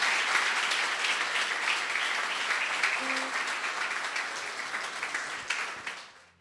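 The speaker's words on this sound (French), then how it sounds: "Je vous demande de l'applaudir" Audience applause for a singer being welcomed to the stage at a large live afternoon show, steady and dense clapping throughout before fading out at the end.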